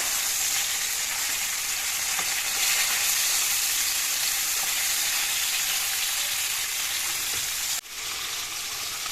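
Fish fries in hot oil for an Assamese dish, with a loud continuous sizzle and crackle that holds steady close by, then dips briefly near the end. No one speaks.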